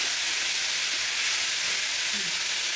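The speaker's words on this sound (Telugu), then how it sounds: "మిక్స్ చేస్తున్నా మంచిగా రోస్ట్ అయిపోతున్నాయి" Sprouts roasting in a hot pan while being stirred, a steady close sizzle with faint scraping of the spoon, continuous and even, no voices.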